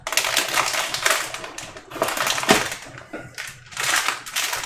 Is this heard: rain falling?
no